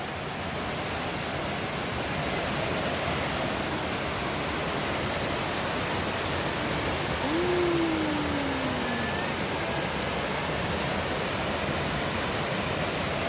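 Mt. Maarat waterfall in San Mateo, Rizal, pours as a continuous broadband roar. It is loud and unbroken throughout, with a faint brief whistle-like tone partway through.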